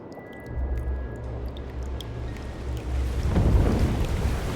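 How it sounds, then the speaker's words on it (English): A powerful wave of water crashing down a stairway in the game Slay the Princess, a low rumbling surge that builds into a louder rushing, splashing roar toward the end. "a powerful wave of water crashing down towards you"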